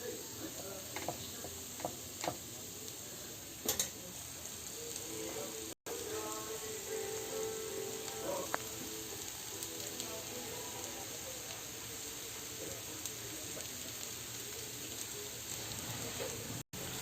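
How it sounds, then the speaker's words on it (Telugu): Roopchand fish pieces added to curry gravy in a pan give a faint, steady sizzle with light bubbling and a few small taps, heard under a constant background hiss. "ఇప్పుడు ఫిష్ ముక్కల్ని ఒక్కొక్కటి వేసుకుందాం ఇందులో"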